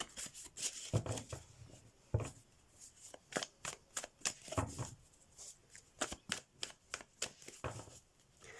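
A deck of tarot cards is shuffled close by in a quiet room, making a run of crisp, regular riffling flicks and slaps at a soft level with no talking.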